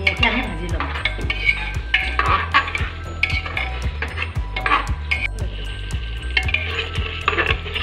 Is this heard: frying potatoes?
yes